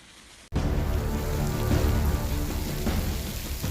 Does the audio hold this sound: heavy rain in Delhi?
yes